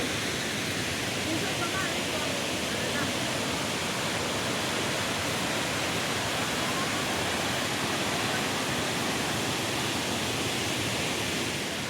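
Tad Tayicseua waterfall near Paksong in Champasak, Laos, pours with a steady, dense roar of falling water, loud and unbroken from start to finish.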